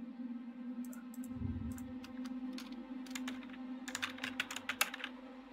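Rapid bursts of typing on a computer keyboard, quick clustered key clicks that grow busier toward the end, close and fairly quiet over a steady low hum, no talking.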